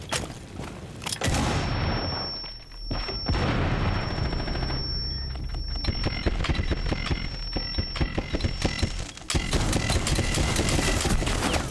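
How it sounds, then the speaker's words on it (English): Grenade explosions and gunfire in a multiplayer shooter video game, with dense bursts of shots, heavy booming blasts and brief lulls between volleys, loud throughout with no talk. "Destroying grenades."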